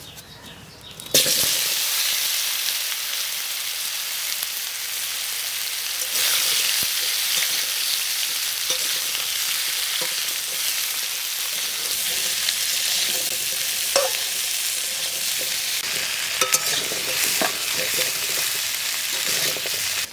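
Potatoes fry in hot oil in a village kitchen for a ritha fish curry, a loud, steady sizzle that starts abruptly and hisses on without a break, with occasional faint clatter.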